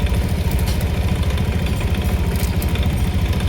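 A Honda Beat or Click motorcycle engine idles steadily with a low, even, rapid putter that stays constant throughout, close by and with no voices.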